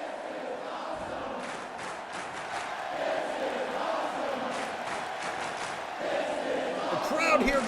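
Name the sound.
crowd cheering in a wrestling video game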